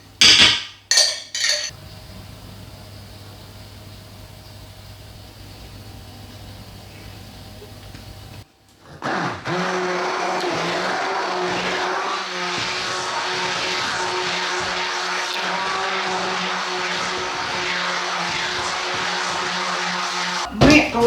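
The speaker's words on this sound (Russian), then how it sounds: "Мы, получается, тщательно все перемешали, взбили еще раз блендером." A kitchen blender whips a zucchini ketchup mixture in loud, continuous whirring bursts, with a few clinks of utensils at the start, a short pause, then a long, steady grinding roar running to the end.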